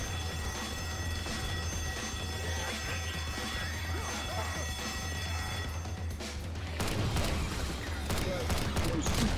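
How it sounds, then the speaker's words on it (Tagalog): A game alarm in Left 4 Dead 2 rings steadily and loudly through the whole stretch, a sustained bell-like tone over dense background noise, growing slightly louder near the end with voices chattering underneath. "Awit na alarm yan."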